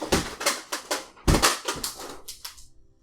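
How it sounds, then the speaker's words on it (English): A cat knocking things over indoors, a rapid series of clattering knocks and thuds, loud and close, then fading into a few lighter taps. "Well, that was my cat knocking things over."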